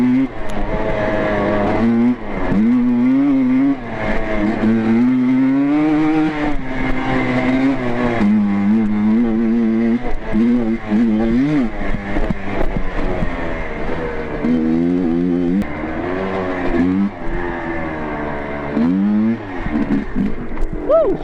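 A Yamaha Blaster ATV fitted with Predator front shocks is ridden, its two-stroke engine droning and revving almost continuously, loud and close, with pitch rising and falling through the ride.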